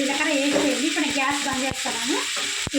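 Cumin, dried red chilies and coriander seeds dry-roasted in a pan without oil give a steady, close crackling hiss with light stirring scrapes, and a voice is faintly audible underneath.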